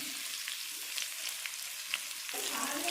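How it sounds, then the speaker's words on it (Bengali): Sliced onion rings frying in hot oil, giving a steady bright sizzle with small crackles, then a fresh burst of hissing as the pan is stirred. "এবার এটাকে আমি একটু লাল করে ভেজে নেব"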